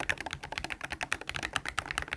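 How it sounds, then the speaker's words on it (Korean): Someone types quickly on a wired keyboard with Quicksilver magnetic switches and a 35 g actuation force, producing rapid, even keystrokes at close range. "축은 제잘제잘한 느낌의 퀵실버 자석 축입니다"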